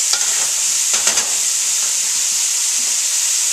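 Tomato dropped into a hot pan of vegetables for a raw vegetable spread sets off a loud, steady close-up sizzle with a few stirring scrapes early on, no voices.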